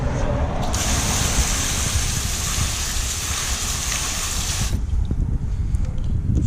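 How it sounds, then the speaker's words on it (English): Garden hose spraying water hard onto a dirty car on a driveway, a loud steady rushing gush that drops to lighter splashing and runoff near the end. "let's see how well this comes off now with just hosing it off"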